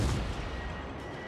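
Main guns of the cruiser St Louis firing in World of Warships, a single heavy boom at the very start that rolls off into a fading rumble.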